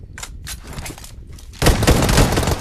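Gunfire in the mobile battle royale game PUBG Mobile: a few sharp separated shots at first, then a loud, dense burst of rapid automatic fire that keeps going to the end.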